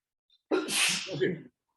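A single loud sneeze, a sharp burst with a breathy explosive release, close by, followed by a brief trailing gasp.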